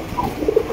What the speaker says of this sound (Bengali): দেখতে পাচ্ছি চমৎকার একজোড়া বোম্বাই কবুতর